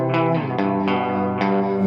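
Electric guitar played through an effects unit with lush chorus and reverb, sustained chords and single notes with repeated plucked attacks blooming into a wide, shimmering wash, loud and close with no talk.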